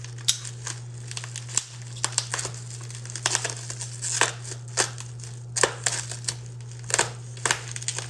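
Comic book packaging is cut open and torn, giving close crinkling and ripping bursts in an uneven series of sharp rustles over a steady low hum, with no talking.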